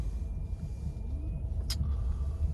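A car travels along a very slippery winter road, its steady low rumble of engine and road noise continuous and close throughout, with no talking.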